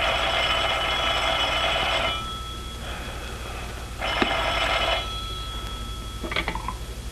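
A telephone rings in two long buzzing bursts with a pause between them, followed by a short clatter as the receiver is picked up.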